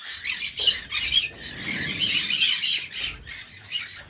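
Pet aviary birds, including cockatiels, diamond doves and monk parakeets, squawk in loud, harsh, repeated bursts close by, overlapping with shorter screeches and no speech.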